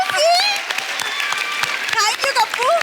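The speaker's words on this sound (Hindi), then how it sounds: "जोरदार तालियां एक बार" A TV comedy show studio audience applauds loudly, the clapping continuing under excited voices and cheering.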